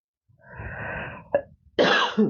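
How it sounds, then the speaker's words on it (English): A breathy exhale followed by a couple of harsh, close coughs, with a short sharp one at the end. "Sorry if I cough."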